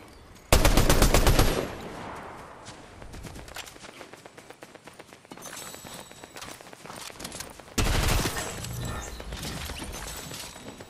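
Gunfire in the Fortnite video game: two loud rapid bursts of automatic fire open and close the stretch, with quieter scattered shots and footsteps between them.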